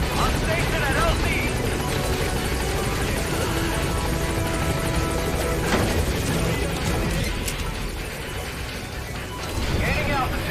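Helicopter rotors and engine drone loudly and continuously as the aircraft settles at a landing zone in Metal Gear Solid V: The Phantom Pain, with radio-style voices talking over the noise.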